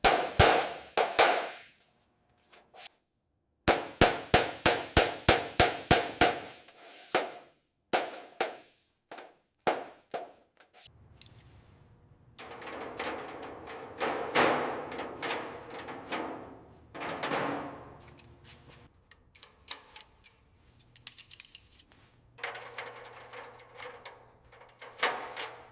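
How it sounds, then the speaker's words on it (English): Cut sheet metal being shaped for a 1966 Ford GT40 MK II restoration: loud, close, rapid hammer blows come in rhythmic bursts, then irregular clanks and a grinding, scraping stretch, with no talking. "Now we are shaping the metal sheet we cut so that it can be welded properly into place."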